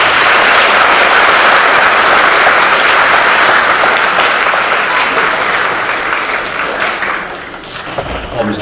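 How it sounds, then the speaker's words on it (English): Loud, dense applause from a large audience at a high school distinguished graduate ceremony honoring two alumni, sustained and fairly even before tapering slightly near the end, with faint voices mixed into the crowd. "Big round of applause for Mr."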